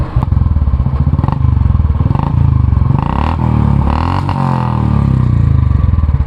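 A 2019 Royal Enfield Classic 350 motorcycle with open exhaust thumps loudly and close, its rapid, steady single-cylinder beat punctuated by sharp blips and crackles as the throttle is briefly opened.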